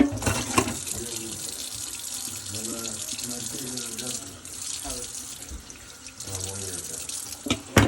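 Cold water runs steadily from a tap to rinse a freshly skinned rabbit, a continuous splashing stream with a shifting gurgle as the carcass moves under it, and voices talk faintly alongside.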